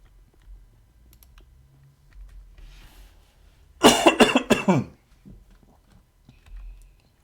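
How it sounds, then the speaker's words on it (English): One burst of several harsh coughs in quick succession, loud and close, surrounded by faint clicking in an otherwise quiet room. "You'll forgive the coughing."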